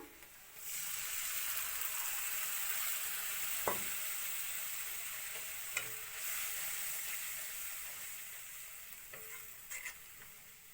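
Mixed spice paste of turmeric and salt hitting lightly fried onions in a hot pan for patal sundori, a steady close sizzle and hiss with occasional spoon knocks and stirring scrapes, no talk.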